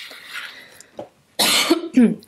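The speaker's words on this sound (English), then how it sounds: "Sorry for the coughing." A person coughs a few times in harsh bursts, close up, followed by a throaty clearing.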